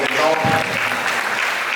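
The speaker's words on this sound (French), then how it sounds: "On applaudit Mango pour son exemple" Congregation applauding during a Sunday church service, steady broadband clapping filling the short stretch with a singing or speaking voice faintly layered over it.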